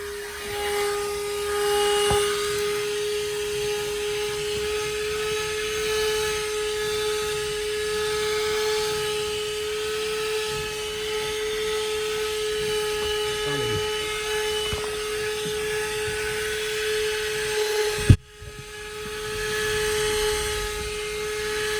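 A portable car vacuum cleaner runs inside a car interior with a steady, high-pitched motor whine and airflow hiss lasting throughout, briefly interrupted by a sharp knock near the end before the motor continues.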